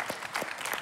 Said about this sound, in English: clap so they can hear it at home.